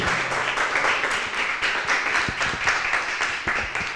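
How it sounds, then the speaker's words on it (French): Audience at a strawberry festival cooking stage applauds a chef after a savory strawberry dish, a steady moderate burst of many hands clapping with a few sharper close claps. "On peut applaudir le chef, effectivement."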